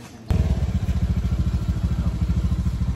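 A motorcycle engine starts up and runs close by, a loud rhythmic thumping idle with fast, evenly spaced pulses and a light mechanical clatter, continuing steadily after an abrupt onset.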